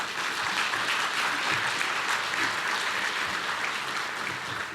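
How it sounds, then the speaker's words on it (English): A crowd applauds steadily at a city's State of the City address in Weslaco, a broad, even wash of clapping that holds at constant loudness from start to finish with no talking over it. "So we can give a round of applause."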